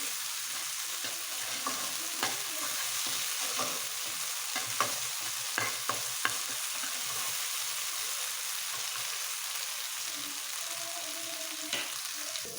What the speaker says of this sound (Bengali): আমার পেঁয়াজগুলো ভেজে নেওয়া হয়ে গিয়েছে